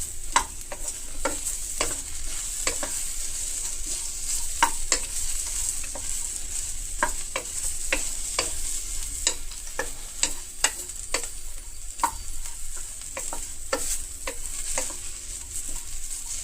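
Bitter gourd stir-fried almost dry with very little oil in a pan: a steady sizzling hiss under repeated sharp spatula scrapes and clicks at an uneven rhythm, close and clear, with no talking.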